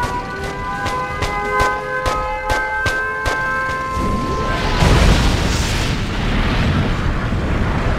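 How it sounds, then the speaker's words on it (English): A nuclear missile explosion in the real-time strategy game Red Alert 2 comes in as a loud, rolling blast after a series of evenly spaced tonal pings, the roar swelling and then decaying over several seconds. "Warning, nuclear missile launched."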